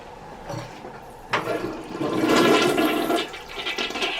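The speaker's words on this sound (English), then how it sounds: "Kind of weak flush" A weak hotel toilet flush: a sudden whoosh of rushing water followed by a steady gurgling swirl that lasts a few seconds, close by in a small tiled bathroom.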